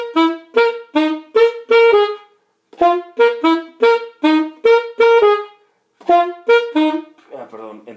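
An alto saxophone plays a phrase from a song in short, punchy repeated notes grouped in bursts, close and clear, alone with no talking.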